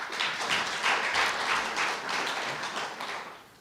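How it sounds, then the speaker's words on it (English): Applause from an audience at a corporate stakeholder roadshow gathering: dense, steady clapping at moderate distance, sustained for a few seconds and then tapering off slightly at the end, with no talking over it. "I think they deserve a round of applause"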